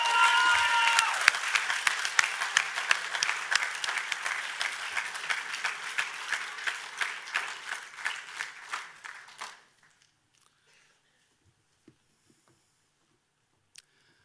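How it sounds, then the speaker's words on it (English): Audience applause at a high school graduation ceremony, a dense round of clapping from a crowd lasting about nine seconds before stopping abruptly into near silence. "I think these 5 deserve one more round of applause"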